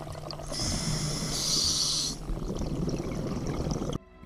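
A scuba diver breathes underwater while descending, a long hissing inhale through the regulator followed by a bubbling, gurgling exhale, close and fairly loud.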